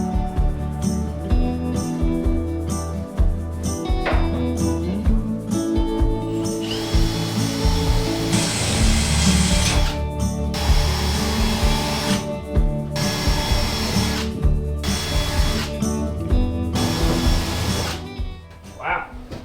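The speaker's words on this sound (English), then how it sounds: "and get started drilling again." A power drill bores hole after hole through the corrugated steel wall of a shipping container, loud and close, with repeated bursts of high whine and grinding separated by short pauses, and some speech mixed in.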